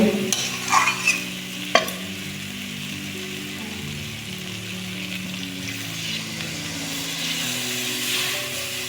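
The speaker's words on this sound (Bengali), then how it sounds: "এখন ভালো করে কষিয়ে নেব" Chicken kosha with ground dried chilli being stirred and sautéed in a pan, a steady sizzle running throughout with a few sharp spoon scrapes and clinks near the start.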